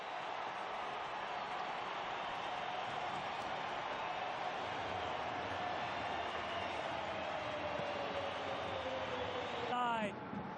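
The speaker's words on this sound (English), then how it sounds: "Crowd roaring." Dense stadium crowd roaring at a soccer match as Real Salt Lake take the lead in the 70th minute, a steady loud wash of cheering throughout with a brief whistle-like sweep near the end.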